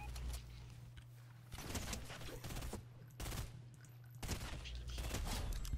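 Burst-fire rifle shots from a Fortnite match crackle in repeated volleys across the whole stretch, dense and fairly loud, with no voices over them.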